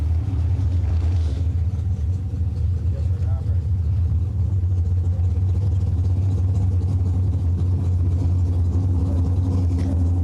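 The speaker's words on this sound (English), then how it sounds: "Nice little drag race right there." Old school bracket drag race cars roar at a race event, a loud, steady low rumble of engines that holds throughout with little change.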